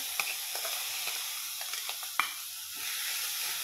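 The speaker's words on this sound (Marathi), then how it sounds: "आता मी हे ठेचा टाकून घेते याच्यात।" Ridge gourd thecha dropped into a hot tempering of cumin and curry leaves gives a soft, steady sizzle and hiss, with a few faint stirring clicks and no talking.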